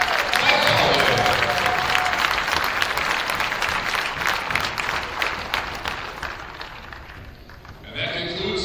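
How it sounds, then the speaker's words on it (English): A crowd at a high school boys varsity basketball senior night applauds the head coach, with clapping and cheering that swell early, then gradually thin out and fade, and a brief burst of crowd noise at the end. "Let's have a nice round of applause for our head coach, Mike Holloway."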